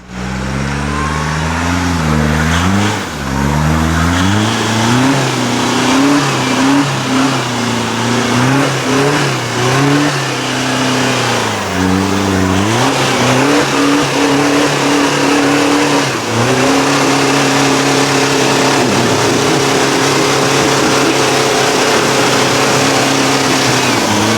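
A 4WD vehicle climbs a steep, slippery hill track, its engine revving hard and continuously with rising and falling pitch as the driver works the throttle, loud and close throughout with no talking.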